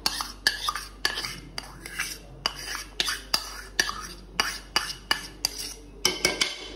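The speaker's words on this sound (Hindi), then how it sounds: "केचप हमने डाल दिया, अब हम इसको करेंगे मिक्स" Metal utensil scrapes and taps rhythmically against a pan while ketchup is stirred into chicken macaroni, about a dozen close, regular strokes with no talking.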